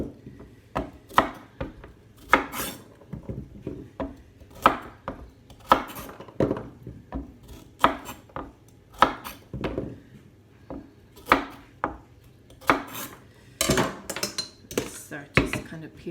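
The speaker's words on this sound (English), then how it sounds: "we're going to try in some carrots also. Just cutting the tips off." A knife chops the tips off carrots on a cutting board, sharp knocks landing in an irregular run of close, loud cuts mixed with light kitchen clatter, no talking.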